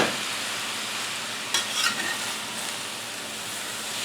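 Cooked vegetables returned to a hot pan with seasoned chicken for cheesesteak, giving a steady loud sizzle and frying hiss with a brief stirring scrape partway through, no talk.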